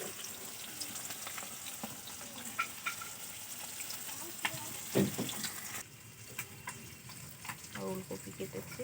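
Chopped red amaranth leaves frying in a pan, a steady close sizzle with stirring clatter and a burst of hissing midway, mixed with faint kitchen noise and running water.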